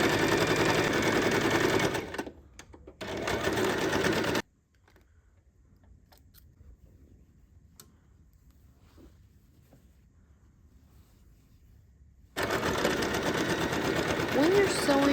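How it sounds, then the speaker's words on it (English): A sewing machine stitches along the pinned lines of a fabric needle case in two loud, steady bursts, the first running about four seconds, followed by a long near-silent pause before the motor whirs up again close by. "Now you're done pinning all the preparations and it's time to sew all the pinned lines."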